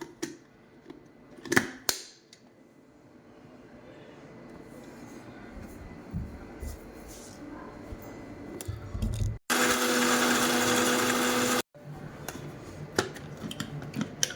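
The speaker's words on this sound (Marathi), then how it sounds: "चला मग आपण हे सर्व ग्राइंड करून घेऊयात।" A mixer grinder blends mint, water and ice cubes for a mojito in one loud, steady two-second burst. Handling clatter and rattling come before and after it.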